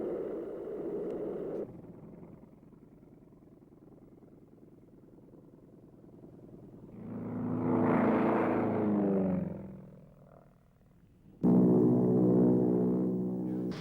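A 1950s US Air Force advanced trainer propeller aircraft, later adapted for combat, drones steadily, then swells into a louder passing roar, fades, and returns with a strong engine hum near the end.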